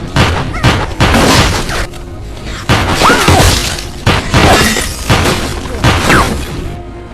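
A gunfight between a driver and a killer in an action film: loud, dense bursts of shots, booms and crashes follow one another in quick succession, with raised voices mixed in.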